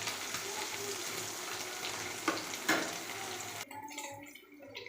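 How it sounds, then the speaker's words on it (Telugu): Paneer cubes frying in a pan, cooking until golden, give a steady close sizzle with a couple of brief louder pops, then the sizzle drops off and softer crackling continues near the end. "ఇలా మంచి కలర్ వచ్చేంత వరకు ఫ్రై చేసుకోవాలండి"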